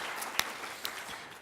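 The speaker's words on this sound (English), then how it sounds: "They deserve a huge round of applause." Audience applause for five campaign partner organizations at a Minnesota justice award event, a steady broadband wash of clapping running the whole moment with a couple of sharper individual claps standing out.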